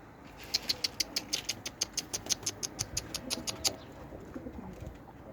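Mardin pigeons coo in a rapid run of about fifteen evenly spaced, fairly close calls, then trail off into softer, irregular notes over quiet background noise.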